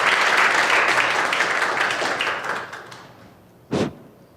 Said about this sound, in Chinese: 我们拍手来欢迎佳琪姐妹。